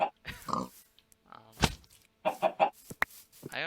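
Chickens clucking and squawking in Minecraft, a video game, in short bursts of several calls with brief gaps, fairly close and loud, with no talk over them.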